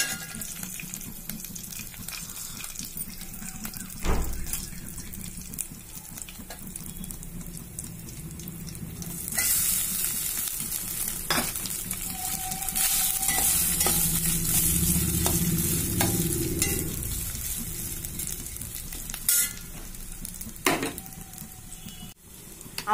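Cooked rice is stirred into a sizzling ajwain tempering in a pan. Scraping spoon strokes and a steady frying hiss run through the stretch, with a brief run of tap water partway and a few sharp knocks.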